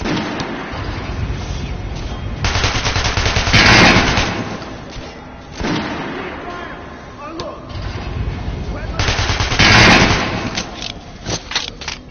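Gunfire in a PS4 video game: dense, steady crackling shots with two louder, heavier bursts standing out, all set against a busy, continuous background.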